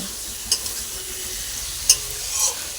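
Masala curry is stir-fried in a wok, with a soft, steady sizzle in hot oil and a few sharp scrapes and clinks of the spatula at irregular moments.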